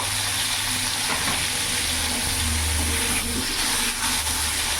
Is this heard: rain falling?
no